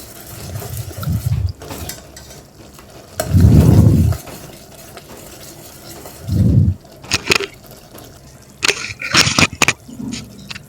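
A spoon stirs cooked rice mixed with salt and turmeric in a pot. It makes several separate bursts of close, scraping, grating strokes with quiet gaps between them, followed by a few sharp clicks near the end.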